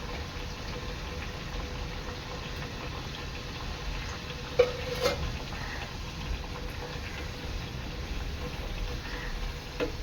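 Sweet rice-flour chamatya vadas fry in hot oil with a soft, steady sizzle, broken by a couple of small pops partway through.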